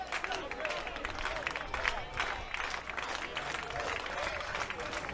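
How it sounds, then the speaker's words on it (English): A baseball crowd at a West Finals game between the Bourne Braves and Cotuit Kettleers rises and applauds as a pitcher leaves the mound, producing a steady, sustained wash of clapping that carries under a commentator's voice. "Fans rising to their feet, applauding the 2-year veteran Tanner Thatch, making his way off the mound"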